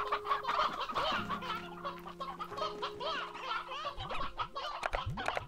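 Stony hen clucking in Slime Rancher 2, a run of busy, close hen clucks and squawks layered over steady game music and ambient chimes, with no talk.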